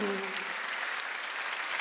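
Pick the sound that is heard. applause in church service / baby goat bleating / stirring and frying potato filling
applause in church service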